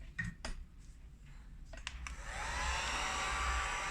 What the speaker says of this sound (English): So let's play with the heat gun.